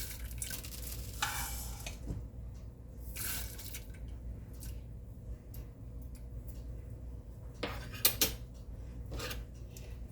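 A spoon stirs milk coffee with fenugreek in a pot, giving faint, soft scraping and swishing strokes in short bursts over a quiet low background hum.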